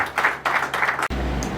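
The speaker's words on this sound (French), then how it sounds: "On applaudit encore pour l'officier d'état civil." Brief burst of audience clapping at a wedding ceremony for the civil registrar, a close, dense patter that swells in waves and then shifts into a duller murmur.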